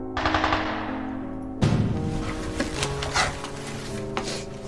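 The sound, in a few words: gunfire, gunshots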